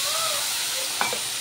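Ginger paste sizzles in a pan with salt, turmeric, chili powder and cumin powder, a steady broadband hiss throughout with a brief louder spatter near the end.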